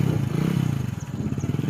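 A Hero Passion Pro motorcycle engine idles close by with a steady, rapid pulsing throb and a faint mechanical clatter over a brief moment, with no voices.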